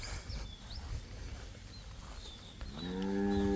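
Beef cattle on a Thai farm give a deep, drawn-out moo near the end, rising loud and harmonic over a steady background of outdoor noise and faint bird chirps.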